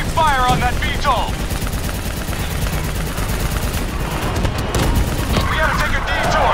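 Sustained gunfire aimed at a Beetle in the shooter Call of Duty Black Ops III, loud rapid automatic bursts and fusillades throughout, with shouted voices calling out over the combat.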